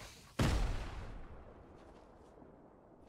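A single grenade explosion in the Fortnite video game bursts loud and close with a sharp broadband blast, then decays into a rumbling tail over a couple of seconds with low noise underneath.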